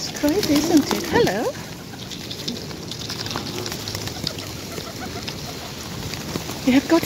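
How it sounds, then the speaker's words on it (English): Canada geese at the Regent's Park boating lake in London giving a few honking calls near the start and again at the end, mixed with other waterfowl, while people nearby talk throughout. "And the Canada geese is coming."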